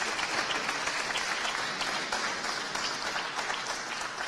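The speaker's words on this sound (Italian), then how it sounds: "e l'applauso al regista Lorenzo Cicconi Massi" Steady applause from an audience at an award ceremony for a film director, a dense, even patter of many hands clapping continuously throughout, with no voices on top.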